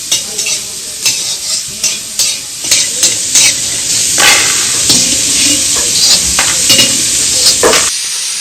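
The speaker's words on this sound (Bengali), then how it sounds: "এবার বড়িটাও ভেজে দিচ্ছি" Bori lentil dumplings fry in a pan with a loud, continuous sizzle, punctuated by a rhythmic series of close stirring scrapes and taps against the pan throughout.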